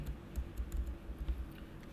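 Keys on a computer keyboard are typed in a quick, uneven patter of soft clicks, close and fairly quiet, with no talking.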